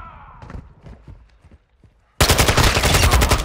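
Enemy gunfire in Call of Duty: Modern Warfare II breaks out suddenly, a loud, close, rapid automatic burst with steady repeating shots following a stretch of quieter voices and movement.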